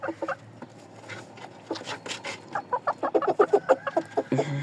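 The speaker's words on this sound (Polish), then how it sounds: "Ale nakrapiana kurka to jest moja ulubienica. I ten kogucik nawet ładny" Chickens cluck close by, a speckled hen and a rooster among them, with steady rhythmic clucking that rises into a quick run of calls. A brief bit of handling noise comes at the end.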